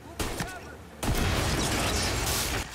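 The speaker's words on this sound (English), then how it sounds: "I caused an explosion" A loud, sustained explosion in Mafia: Definitive Edition erupts after a brief burst, a dense roaring blast that rumbles on for over a second before cutting off.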